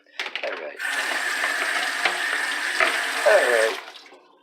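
Tap water runs steadily into a kitchen sink to wet dry pasta shells for stuffed shells, a close, even splashing stream that lasts a few seconds with no talk.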